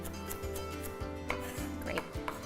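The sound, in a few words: chopping vegetables with knife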